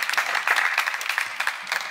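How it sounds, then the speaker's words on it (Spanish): Audience clapping at an open-mic poetry gathering held at a camp, a steady dense patter of many hands filling the room at moderate level, with no voices over it. "Fuerte aplauso para Julio."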